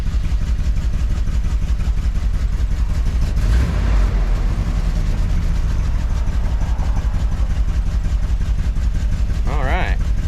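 An old 1973 Dodge W200 truck's engine idles steadily after starting, a loud low rumble with a regular pulsing beat; someone talks briefly over it.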